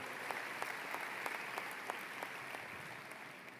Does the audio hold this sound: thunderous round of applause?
yes